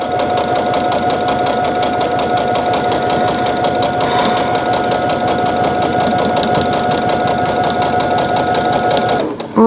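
A sewing machine stitches a fabric face mask with elastic at the corners, running as a loud, continuous, even whirring drive that stops abruptly at the very end.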